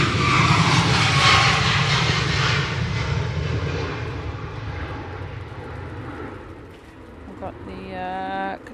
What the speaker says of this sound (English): And we have this Ryanair Max going out now.